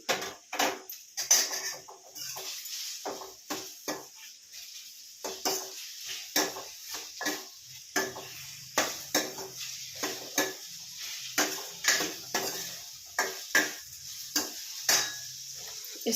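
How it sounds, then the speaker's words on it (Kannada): Tomatoes frying in a pan for a mixed lentil and vegetable masala sambar, with steady sizzling beneath repeated clicking scrapes of a spoon stirring against the metal, coming in irregular bursts close up. "2 ಟೊಮೊಟೊ ಹಾಕ್ಕೊಂಡಿದ್ದೆ. ಅದನ್ನು ನೀಟಾಗಿ ಥರ ಫ್ರೈ ಮಾಡ್ಕೊತೀನಿ."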